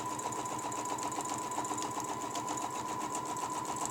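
A sewing machine runs steadily as it stitches a quilt seam line, giving a loud, even, fast mechanical whir that holds continuously throughout with no pauses.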